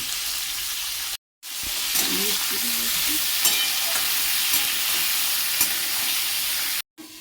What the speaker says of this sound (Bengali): কিছু কাঁচা লঙ্কা, ফুলকপি ও আলু দিয়ে দিল ভাজার জন্য